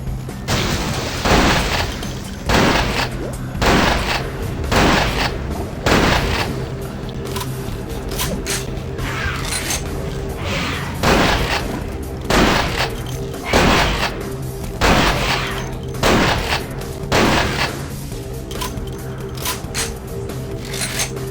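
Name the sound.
gunfire in video game Vampire The Masquerade Bloodlines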